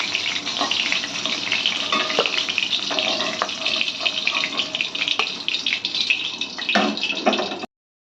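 A hilsa fish head frying in hot oil, a dense, loud, continuous close sizzle and crackle with occasional spatters, then an abrupt stop near the end.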